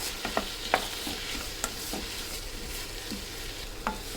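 Tomatoes sizzle softly in a pan as they are sautéed for a village-style dry fish curry. A spoon scrapes and knocks against the pan now and then in sharp, scattered clicks, with no talking.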